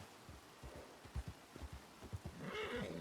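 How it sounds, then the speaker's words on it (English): In the video game Red Dead, dull hoofbeats thud in an uneven rhythm, then a horse gives a short whinny near the end. "I hear another horse."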